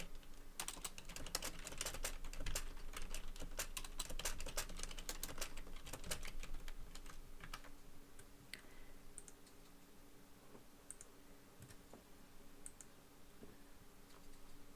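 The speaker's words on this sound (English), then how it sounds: "My typing is very loud" Loud typing on a computer keyboard, rapid clattering keystrokes close up at first, then thinning out to sparse, scattered clicks toward the end, with no voices.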